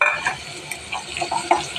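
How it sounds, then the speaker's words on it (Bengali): Spices, including salt, coriander, turmeric, chili, sugar, cinnamon and cardamom, sizzle in a pan while a utensil stirs them, with scraping taps recurring every few tenths of a second over a steady frying hiss. "একসাথে দিয়ে আবার ভালোভাবে নেড়ে দিব"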